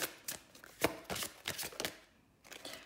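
Oracle cards riffled and shuffled by hand in a series of quick papery bursts, close and fairly quiet, with brief pauses between the flurries and no talk.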